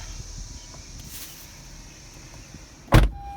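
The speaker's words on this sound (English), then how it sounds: "close the door" A car door shuts with a single sharp thump near the end, after a quiet stretch with a faint motor whir and steady hum inside the vehicle.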